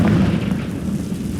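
A Confringo blast spell goes off in Hogwarts Legacy, a short booming burst with a rumbling low tail, loud and close, with no talking over it.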